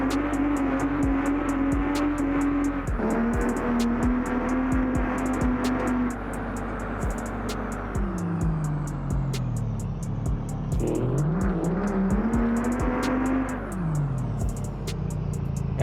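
Pickup truck with a rebuilt 1100HP Cummins diesel engine, loud and close, revving hard with repeated rises and drops in pitch while driving and sliding, plus steady rapid clicking and rumbling throughout, with no speech.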